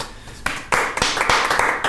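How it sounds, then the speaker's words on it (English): Hands clap in a short, sharp round of applause at a prom king and queen announcement, several close claps building quickly over a couple of seconds. "give a big round of applause for our guest, Christine DeMarin."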